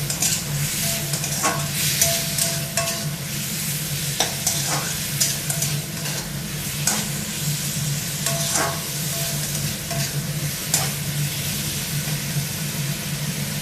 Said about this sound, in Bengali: একটু নাড়তে থাকতে হবে কষাতে হবে ভালো করে